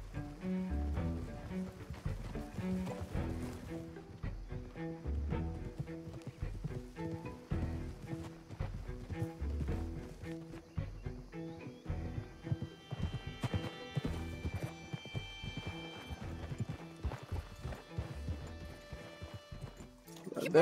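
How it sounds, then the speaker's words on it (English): Hooves clip-clop in a steady walking rhythm for a long stretch in Red Dead Redemption 2, close and moderately loud, with occasional voices and background game ambience. "What is that horse doing there?"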